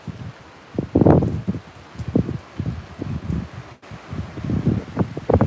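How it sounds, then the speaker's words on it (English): Gusty wind sweeps through a garden ahead of Tropical Storm Hilary, rustling leaves in repeated loud surges that swell and ease over several seconds, close to the microphone, with no talking. "now the wind is starting up"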